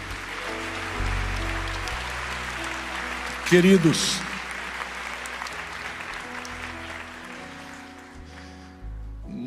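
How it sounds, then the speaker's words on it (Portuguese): A church congregation applauds the Lord during a worship service, a brief burst of clapping that swells midway, set against sustained music with a voice speaking over it. "A igreja aplauda ao Senhor."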